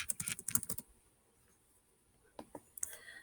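Computer keyboard typing in a classroom setting, a quick burst of close key clicks at the start, then near silence before a few more scattered taps near the end.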